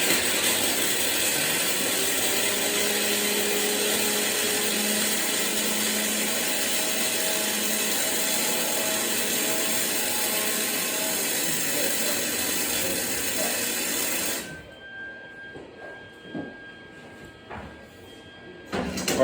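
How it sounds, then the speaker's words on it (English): Arc welding lays a short straight bead about an inch long, a steady, harsh crackling hiss that runs for roughly fourteen seconds before cutting off abruptly into faint clicks and handling noise. "this first weld is going to be just a straight line right in here"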